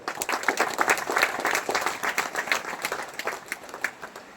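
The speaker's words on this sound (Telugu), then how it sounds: "చప్పట్లు పడుతుంది." A crowd at a public speech by Sri Radha Manohar Das breaks into applause, the clapping surging in uneven waves and slowly thinning over about four seconds.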